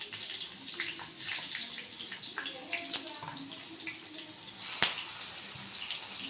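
Fish pieces sizzle in hot oil with curry leaves in a pan, a steady broadband crackle with scattered pops and two sharper spits, close and moderately loud, no talking.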